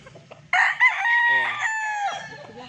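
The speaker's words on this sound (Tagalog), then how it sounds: "ito naman yung inahin na Golden Boy" A Golden Boy hen at a gamefarm gives a loud, close call that rises abruptly after brief low murmuring and holds for about a second and a half, then falls back to quieter farmyard sounds.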